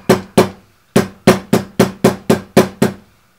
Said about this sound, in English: Hammer down.